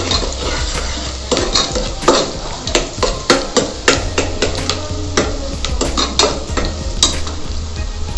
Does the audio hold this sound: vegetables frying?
yes